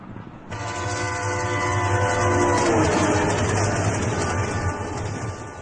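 A train running along a railway, with a loud sustained horn blast over steady rolling rumble and faint clickety-clack of the wheels, close and continuous throughout.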